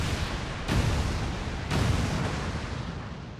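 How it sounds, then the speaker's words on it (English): Detonated charges exploding in the video game XCOM 2, a sustained roaring rumble with two heavy booming bursts about a second apart, loud and dense with no voices over it. "Nothing like a giant explosion."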